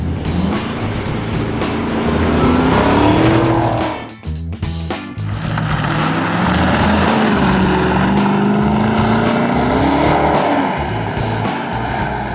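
A Maserati Ghibli 334 Ultima drives hard, its engine note climbing and falling through the gears with a brief lift-off in the middle and some tyre squeal, loud and close throughout.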